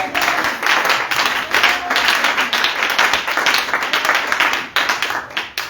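A church congregation in Côte d'Ivoire applauding during a Sunday service: dense, continuous rhythmic clapping from many people, loud and close, with faint voices mixed in.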